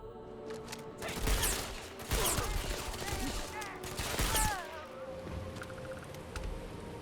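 A few loud, sharp gunshots from a newly acquired weapon ring out in the sci-fi game Starfield, spaced a second or two apart over a murmuring game backdrop with faint voices.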